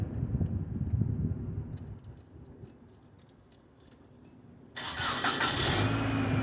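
A 1997 Nissan Altima engine cranks and catches after a few seconds of quieter mechanical noise, then settles into a loud, steady run close by, after a fuel line repair.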